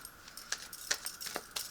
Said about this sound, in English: let me give you a quick shuffle